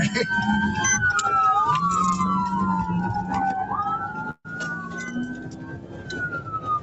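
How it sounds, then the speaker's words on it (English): A police siren wails continuously, its pitch sweeping up and down, with voices talking over it throughout. "Do I need to turn my sirens on?"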